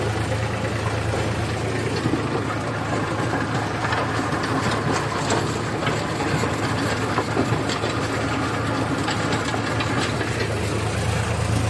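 A tractor engine runs continuously at a steady idle-like rumble, close and loud, with a deep low hum and a rough mechanical clatter over it, no speech heard.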